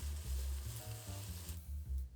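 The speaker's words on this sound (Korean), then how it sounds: "올리브유 1큰술을 두르고 양파와 당근을 볶을게요" Onion and carrot sizzle steadily in a tablespoon of olive oil in a hot pot while being stirred, a close, continuous frying hiss with soft scraping underneath, heard alone without talk.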